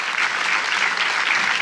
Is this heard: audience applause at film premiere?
yes